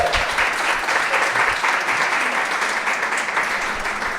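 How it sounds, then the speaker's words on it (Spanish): A church congregation applauding at a morning service, steady loud clapping from many hands that fills the room and holds at an even level, with no voices over it. "¿cuántos le pueden dar un fuerte aplauso a Jesús en esta mañana?"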